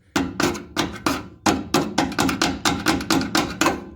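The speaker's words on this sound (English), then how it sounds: "hit it right there with a hammer and screwdriver till it goes around" Repeated sharp metallic blows of a hammer on a screwdriver against a fuel pump ring on an 1988 Chevy gas tank, in a steady, slightly uneven rhythm, about a dozen hits close up.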